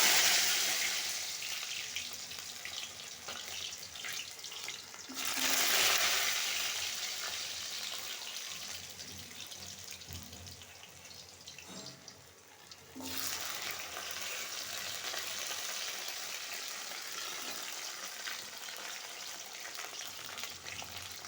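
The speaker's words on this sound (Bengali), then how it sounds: "দেখো সুন্দর করে কচুর গাঁঠিগুলো আমি ভেজে নিয়েছি।" Arum roots (gathi kochu) fry in a pan with a continuous close sizzle, swelling in bursts as they are stirred and then settling back to a steady hiss.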